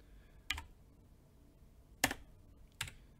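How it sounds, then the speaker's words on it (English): Three sharp, isolated keystrokes on a computer keyboard, spaced well apart in a quiet room, each a brief crisp click with no talking. "I'm typing backwards because my keyboard isn't like in the right thing."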